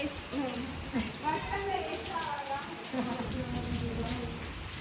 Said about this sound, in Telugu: ఫుల్ వర్షం.